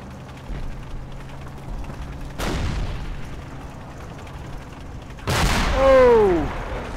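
Tank gunfire in the Combat Mission Red Thunder war game, two sharp loud blasts a few seconds apart, the second followed by a ringing, descending metallic whine over low rumbling background.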